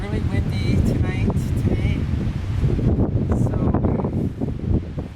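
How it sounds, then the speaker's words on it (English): Strong wind gusts outdoors on a mountain hiking trail, roaring and buffeting the microphone in uneven surges while a person talks over it. "It's really windy today"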